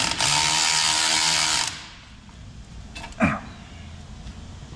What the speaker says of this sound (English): I'm gonna unbolt this, and now it'll come out.